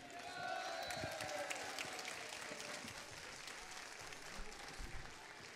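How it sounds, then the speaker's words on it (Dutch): Applause from a carnival show audience in Kaaiendonk, a dense wash of clapping with scattered cheers and whistles, fairly distant and steady throughout. "Dames en heren, geef ze applaus"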